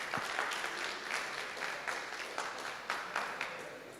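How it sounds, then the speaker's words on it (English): Audience applause at the JFF Women's Football Strategy Launch, thin scattered clapping from a small crowd with distinct individual claps, fairly faint and distant. "Round of applause."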